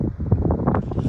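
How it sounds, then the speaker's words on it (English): Strong gusty wind roars across the microphone on a very windy day, rising and falling in short surges as trees are buffeted, with a low rumbling rush throughout. "It's a windy day today,"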